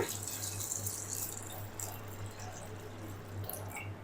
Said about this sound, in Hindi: अब मैं इसके अंदर ऐड करूंगा तकरीबन 1 लीटर पानी।